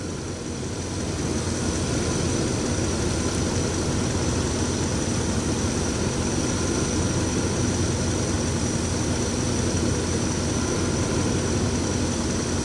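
A Rolls Royce Silver Spirit III engine runs steadily after starting, its loud constant rumble and hum going on without a break and without talking.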